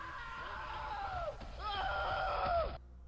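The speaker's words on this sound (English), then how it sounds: "Orders are drowned out by a large shriek coming from outside the camera's view." The SCP-096 creature lets out a large, drawn-out shriek in two long wavering wails, loud and falling in pitch, over a low rumbling background.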